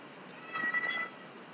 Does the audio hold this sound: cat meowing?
yes